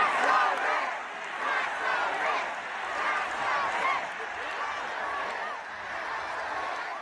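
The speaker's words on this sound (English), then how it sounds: "Kami Mandami had a big old rally here over the weekend, and the crowd didn't hold back." Large political rally crowd over the weekend, a dense, steady roar of many voices shouting and chanting together, fairly distant and sustained throughout with no single speaker standing out.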